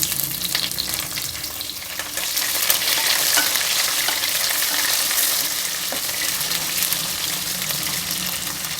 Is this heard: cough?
no